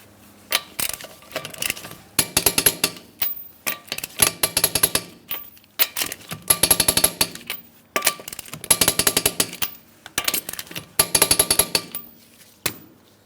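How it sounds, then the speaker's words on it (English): Repeated bursts of clicking ratchet from a torque wrench tightening lug nuts on a Chrysler Town & Country wheel, several spaced runs of rapid metallic clicks up close, with no talking. "Let's go ahead and torque those lug nuts to that 100 foot-pounds as I mentioned"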